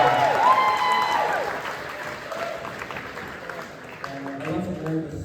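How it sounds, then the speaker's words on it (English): Wedding guests applaud during a best man speech at a reception, a round of clapping mixed with cheers and whoops that fades under voices talking. "Let's give them a round of applause for Jack and"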